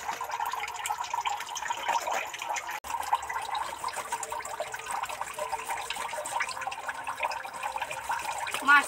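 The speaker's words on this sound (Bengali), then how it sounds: "মাছ তো কেটেই নিলাম, এবার গুছিয়ে ধুয়ে নিতে লাগবে।" Fish being washed and scrubbed under running water, a steady rush from a tap with splashing and light rubbing noises, continuous and close throughout.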